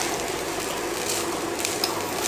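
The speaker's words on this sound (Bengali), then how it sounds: "ভাতটা ভাজতে ভাজতে অনেক কমে যাবে" Rice with mutton stir-fried in a pan, giving a continuous, fairly loud sizzle with faint scraping from stirring throughout.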